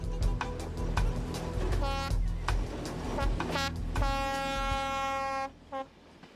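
Reunification Express train travelling through Vietnam, with a steady loud rumble of the rolling carriages and repeated sustained horn blasts sounding over it, the noise dropping away abruptly near the end.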